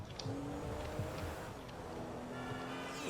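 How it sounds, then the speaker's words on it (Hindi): Car driving in GTA V, a steady engine drone with rising and falling pitch and faint tire noise, continuous and moderately loud with no talk. "अपनी गाड़ी देखो कैसे भाग रही है,"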